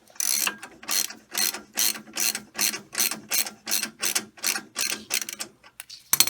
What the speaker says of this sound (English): now what I'm doing is actually disconnecting the bolt that holds the incline in place